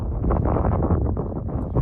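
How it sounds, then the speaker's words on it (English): Gusty wind roars continuously against the microphone on a hilltop along the Appalachian Trail in West Virginia in winter, a dense low rumble with no other clear sounds. "It seems to be windy up here."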